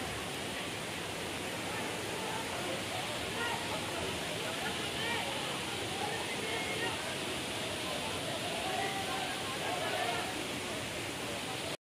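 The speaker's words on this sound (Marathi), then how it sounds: "आपण कालमांडवी वॉटरफॉलला आहोत आणि वॉटरफॉल बघू शकता मागे" The Kalmandavi waterfall pours into a deep pool, a constant broadband rush of falling water that fills the scene at an even level from start to finish.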